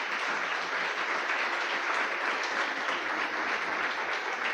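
A church congregation claps steadily and densely for several seconds in a worship service, a loud, even wash of many hands close around with no pauses.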